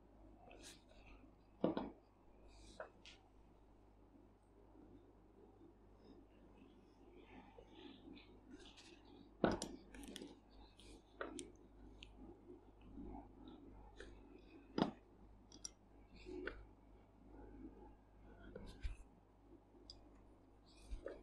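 A classic feather quill pen scratches across paper laid over a box, faint irregular nib scrapes and soft taps spread over about twenty seconds, close and quiet with occasional louder clicks.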